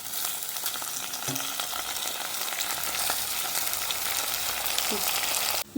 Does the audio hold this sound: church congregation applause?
no